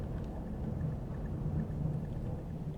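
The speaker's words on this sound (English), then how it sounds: "That's some interesting thunder." Loud thunder in the game Cataclysm: Dark Days Ahead, a continuous deep rolling rumble with a rain-like hiss, heard alone at a steady moderate level.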